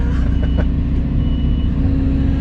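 A dump truck with an aluminum bed turns around on a dirt building-pad site. Its reversing alarm beeps close by over a steady, heavy diesel engine rumble.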